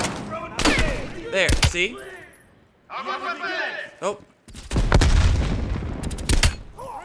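Gunfire in Call of Duty Black Ops Cold War during a training course, with sharp bursts of shots and booms interspersed with a player talking over them.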